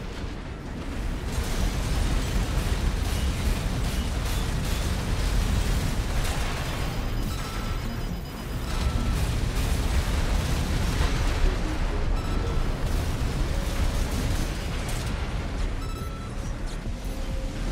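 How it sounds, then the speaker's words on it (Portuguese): A heavy cannon in the Armored Core VI mech combat game charges and fires, producing continuous loud rumbling blasts and booming explosions that roll on without pause, with a brief dip midway before the barrage resumes. "o canhão demora muito pra carregar"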